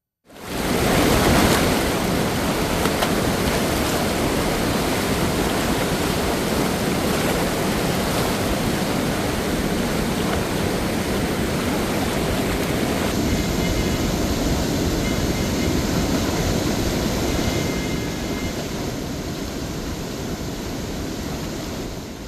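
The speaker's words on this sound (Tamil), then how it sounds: "நர்மதா, மச்சு, தபி, மஹி உள்ளிட்ட ஆறுகளில் வெள்ளம் கரை புரண்டு ஓடுகிறது." Floodwater surges down the overflowing Narmada, Machhu, Tapi and Mahi rivers in Gujarat after days of heavy rain, making a loud, steady roar that holds unbroken from start to end with no voices.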